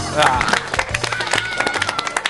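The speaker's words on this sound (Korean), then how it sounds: "자, 앉았다다 같이 박수!" Group of people, including young novice monks, clap together in a brisk, slightly uneven burst of applause, close and loud, with voices mixed in.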